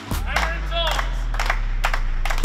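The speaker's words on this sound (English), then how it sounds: "Got the clap going." Melbourne United basketball players clap in support of teammates during court fitness testing, giving a handful of sharp, separate claps at an uneven pace over a low steady hum, with voices talking in between.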